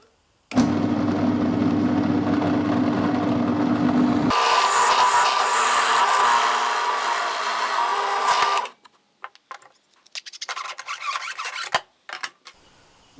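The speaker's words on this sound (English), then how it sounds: "Now we can drill a 12 millimeter or 1/2 inch hole straight through the end grain." A drill whirs steadily with harsh grinding as a 12 mm bit bores through wood end grain, continuing for several seconds before stopping, followed by a few shorter scraping bursts.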